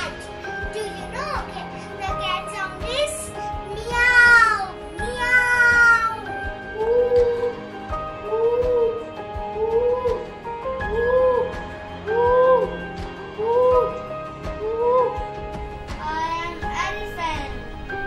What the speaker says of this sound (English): Look, this is a cat.